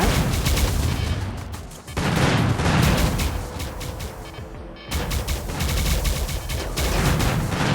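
A ship fires on a colony in the sci-fi colony game RimWorld with the RiftWorld mod, sounding as dense, continuous booming gunfire and explosions that stay loud throughout, with brief breaks.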